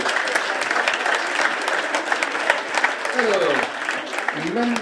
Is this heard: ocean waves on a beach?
no